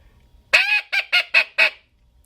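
A teal duck call imitates a hen's quacking: one drawn-out quack followed by four quick, evenly spaced quacks, loud and close against a quiet background.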